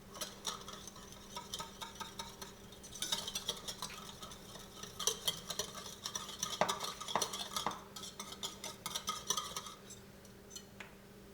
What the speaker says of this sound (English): we're just going to give it a little whisk